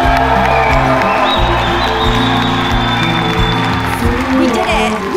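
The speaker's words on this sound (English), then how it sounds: "Please join me in applauding the June 2023 graduates" Crowd at a June 2023 university convocation applauding and cheering for the graduates, dense continuous clapping with whoops and raised voices, full and close throughout.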